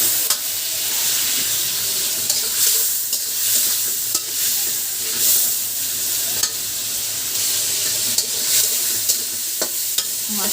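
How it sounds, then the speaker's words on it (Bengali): Lightly salted fish fries slowly in oil, a continuous close sizzle broken by periodic scraping strokes of a spatula stirring the pan. "আস্তে আস্তে তেলে ভেজে নেব ভালোভাবে।"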